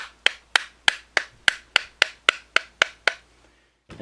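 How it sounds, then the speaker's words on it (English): Ten sharp, evenly spaced hammer blows strike a wooden dowel to drive out a tight Magpul Zhukov rifle handguard chassis, each tap ringing briefly before the next, close and fairly loud, with no talking. "So I just got a wooden dowel and a bigger hammer"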